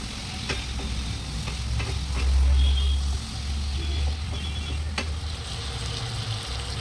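Vegetables frying in a spiced masala in a home kitchen, a steady broad sizzle with occasional scraping stirs and clinks, with a low rumble underneath throughout.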